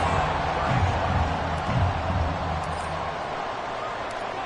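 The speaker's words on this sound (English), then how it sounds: "This crowd alive again." A football stadium crowd cheers after a game-tying fourth-quarter extra point, a broad, steady roar that swells early and then holds at a slightly lower level.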